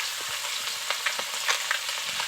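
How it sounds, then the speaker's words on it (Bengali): Small pond fish sizzle in hot oil in a pan, an even crackling hiss dotted with soft pops and spits throughout. "মাছগুলোকে একটু ভালো করে ভেজে নেবো"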